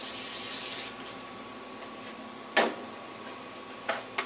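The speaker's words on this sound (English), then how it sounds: "spray it with lubricant" Aerosol lubricant sprayed onto a lawn mower's foam pre-filter breather filter: a couple of short, sharp hissing bursts, close and fairly quiet against a faint background hum.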